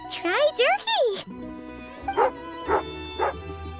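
Several short yips and whimpering barks from a dog in Genshin Impact, first two rising, squeaky calls close together, then three quieter spaced yelps over a low background hum.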